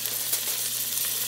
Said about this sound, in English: We're gonna saute these for about 5 to 7 minutes.